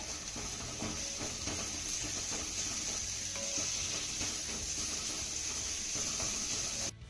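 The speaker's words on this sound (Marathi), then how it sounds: "आता हा कांदा आपल्याला चांगला हलक्या सोनेरी रंगावरती परतून घ्यायचा आहे." Chopped onion sautéing in a pan toward light golden brown, a steady, moderate sizzle with a bright hiss and faint scraping underneath, continuous without talk.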